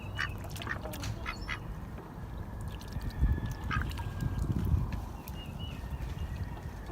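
Ducks quack repeatedly on a Georgia farm with chickens nearby, the calls close and overlapping over a busy outdoor background with scattered thumps.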